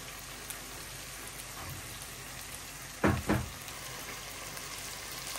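Steady rain falling outdoors while chicken curry cooks, a constant soft hiss of drops throughout, broken by two quick, louder knocks near the middle.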